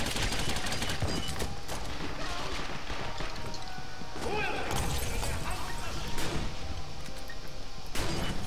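Dense, continuous gunfire and explosive cracks from the multiplayer video game Gotham City Impostors, with overlapping shots and impacts filling the whole stretch, and a player's voice talking over the action.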